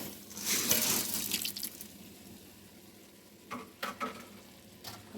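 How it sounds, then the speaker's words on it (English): Water splashes from a tap or jug over cleaned, picked black-eyed peas in a cooking pot, a brief hissy pour followed by a few softer splashes, no talking. "And I'm going to cover them with water."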